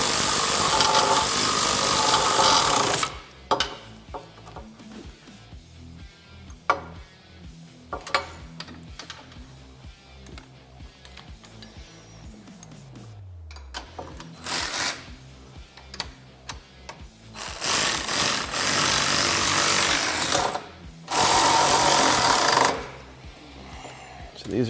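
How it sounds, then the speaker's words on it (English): Front bumper bolts on a Kawasaki Teryx KRX being tightened with a 15 mm wrench, heard as close, intermittent metallic ticking and clicking broken up by several loud, extended bursts of harsh tool noise. "we'll go ahead and tighten up that bolt as well as that bolt right there"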